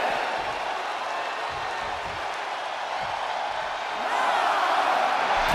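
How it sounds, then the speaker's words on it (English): Virtual arena crowd cheers and applauds steadily through a WWE 2K23 women's wrestling match on Monday Night Raw, a dense wash of noise that swells louder near the end. "Nikki Bella feeding off the crowd"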